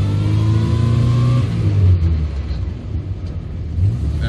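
A 1969 Morris Minor 1000 pulls away in first gear from a complete stop. Its small engine gives a loud, close rumbling rev that rises, eases off and then swells again.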